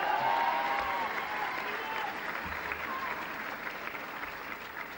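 Sustained applause from a large crowd at a university commencement ceremony, steady dense clapping that fills the hall and fades slightly toward the end.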